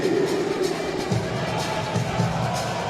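Arena crowd at a women's basketball game between USA and Angola at the 2014 FIBA World Championship roars and cheers in a continuous, moderately loud wash of voices, with no distinct claps standing out.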